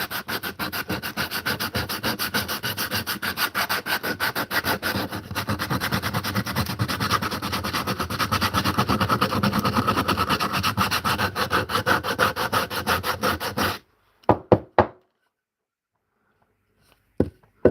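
Rapid, rhythmic scratchy rubbing of sandpaper inside a carved wooden cup, continuous and close for several seconds, then stopping abruptly with a few brief knocks and near silence.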